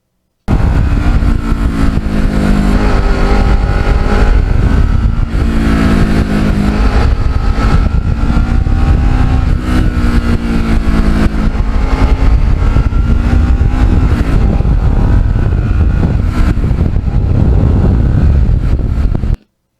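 A Kawasaki Ninja twin-cylinder motorcycle with carbon fiber parts idles and revs close by, a loud continuous engine drone with rising and falling rev swells throughout.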